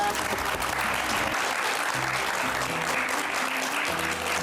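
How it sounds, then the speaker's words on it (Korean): Studio audience applause on a Korean television talk program, dense and steady clapping that fills the whole stretch at an even level, with a low musical tone underneath. "우리 박민수 원장님께 다시 한번 박수 부탁드리겠습니다"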